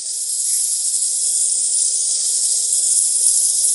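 Flaxseed, about three big spoonfuls, hits a hot pan in a village kitchen and sizzles in a steady, bright hiss that holds evenly throughout, close and fairly loud with no voices.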